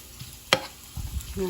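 A chili and soy sauce mixture is stirred in a bowl, giving a soft scrape and a sharp clink of utensil against the dish, followed by light wet swishing and dabbing sounds, close and quiet.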